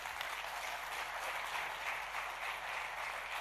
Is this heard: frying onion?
no